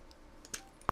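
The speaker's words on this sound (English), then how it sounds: "And I'll be typing into the chat." A few soft keystrokes on a computer keyboard, scattered taps ending in one sharper click and a quick follow-up, close and faint against quiet room noise.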